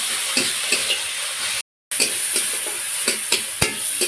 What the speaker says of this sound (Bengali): টমেটো, আদা রসুন, পেঁয়াজ খুব ভালো করে কষিয়ে নিয়েছি।